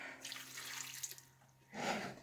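Water poured into a cup or pot for stovetop applesauce with brown and white sugar, a steady splashing run followed by a brief louder gush near the end, heard alone without talk.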